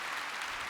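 A church congregation claps together, a dense steady burst of applause filling the short moment without a break.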